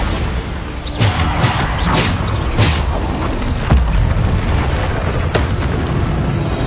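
Bombarda blast spells in Hogwarts Legacy's combat, with several booming explosions in a row over a dense, loud bed of continuous battle noise.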